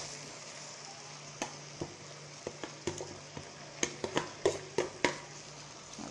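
Beef steaks frying in a pan with tomato, onion, chile and cilantro give a soft sizzle under a run of sharp utensil clacks and scrapes that grow more frequent toward the end.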